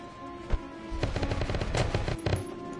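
A gunshot from the Valkyria Chronicles video game, a single sharp crack, then a longer stretch of rattling automatic fire over a soft game soundtrack.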